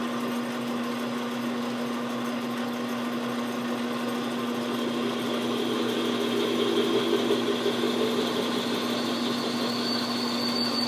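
A long ball end mill cutting metal with machining oil as cutting fluid, a steady high whine with a strong constant tone and rising hiss, close and continuous without speech.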